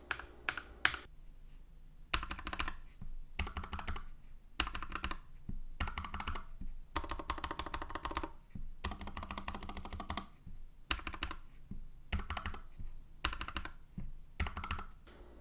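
Someone types on a NuPhy Air96 keyboard in bursts of quick, full-sounding keystrokes separated by short pauses, close up with no voices.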